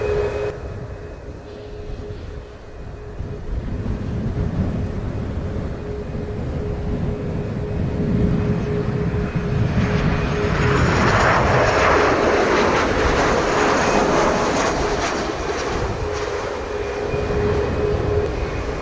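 A United airliner lands on runway 07 at Montego Bay, Jamaica, its engines roaring steadily for the whole stretch and rising as it comes nearer, with a sustained tonal whine over a broad rumble.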